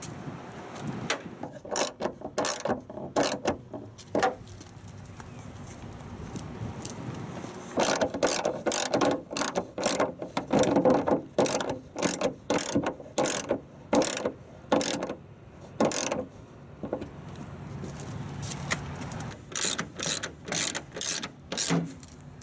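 A ratchet clicks in quick runs while tightening headlight mounting bolts on a 2003-2019 Chevy Express van during a composite headlight conversion, crisp close ratcheting bursts separated by short pauses, no talk.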